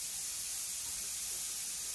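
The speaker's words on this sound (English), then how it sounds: "I don't know if you can see the steam that's coming out of this vent, but you can hear it." Steam hisses steadily from the vent of a pressure canner processing broth, a continuous bright, airy rush with no pauses and no voices.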